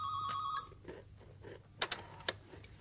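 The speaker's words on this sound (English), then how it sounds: "sometimes the phone rings but we don't answer" A telephone rings indoors with a short, quiet electronic trill. A few faint clicks and knocks follow.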